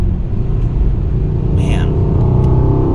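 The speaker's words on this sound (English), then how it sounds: "All we're hearing is just the exhaust and engine." Exhaust and engine of a 2021 Mercedes-AMG GLE 63 S 4MATIC while driving, a steady low rumble heard from inside the cabin, loud and continuous with a brief higher tone midway.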